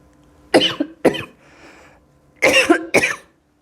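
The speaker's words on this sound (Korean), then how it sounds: "막 기침이 나오네요." Someone coughs in loud, close bursts: two sharp coughs, a brief breathy pause, then two more coughs, with no talking.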